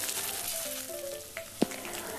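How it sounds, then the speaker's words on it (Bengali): Potatoes sizzle steadily in a frying pan as they are stirred for a vegetarian drumstick dish, with one sharp utensil knock on the pan near the end. "আমি আলুটাকে চাপা দিয়ে দিয়ে ভাজছি আর মাঝে মাঝে একটু নাড়াচাড়া করে দিচ্ছি"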